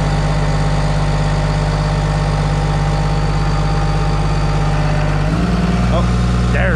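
A D51 construction machine's diesel engine idles loud and steady, then climbs to a higher-pitched high idle in the last second or so.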